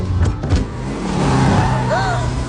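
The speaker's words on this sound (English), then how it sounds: "He then floored the gas on that beat-up car, flying down the road, leaving even luxury sports cars behind in the dust." An old, beat-up car accelerates hard with the gas floored, its engine revving loudly and close, the pitch rising as it speeds away.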